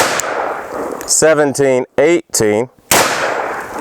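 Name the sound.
10mm Underwood 135gr pistol shots, Glock with KKM barrel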